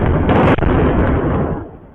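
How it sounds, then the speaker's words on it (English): Airstrikes hitting Tehran set off a loud, sustained explosive roar with a sharp burst near the start, rumbling densely for about a second and a half before fading, with no voices. "Israel launched a barrage of airstrikes on Tehran"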